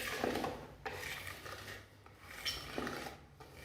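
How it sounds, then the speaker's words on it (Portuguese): Cake batter stirred by hand with a spoon or spatula, a few slow scraping, sloshing strokes that rise and fall, heard faint and close with no talk. "a gente continua mexendo até se desfazer tudo, sempre de baixo para cima e passando nas laterais"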